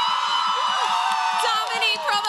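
A large convention crowd at New York Comic Con screaming and cheering: a sustained wall of high-pitched shrieks and whoops with no gaps, loud and close.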